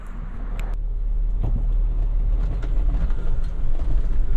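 Kanati Terra Commander RTX tires rolling along a stretch of highway, a steady, loud low rumble of road noise heard from inside the vehicle, with no talking.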